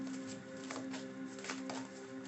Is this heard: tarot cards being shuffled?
yes